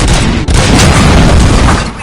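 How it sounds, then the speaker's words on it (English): Dense burst of gunfire in a RoboCop game scene, loud and close, a continuous rattling barrage of shots with a brief gap near the start, filling the whole moment without talk. "Gunshots? What's going on?"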